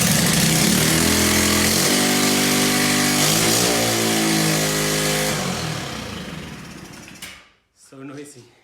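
A loud, raw motorcycle engine runs without an exhaust, roaring and revving with harsh rattling, then dies down and cuts out near the end.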